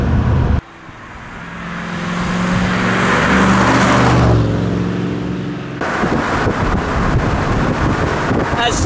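V8 Cobra kit car on the road, engine note rising to a loud roar with heavy wind buffeting, then easing off as it brakes toward the end of the road, close and continuous.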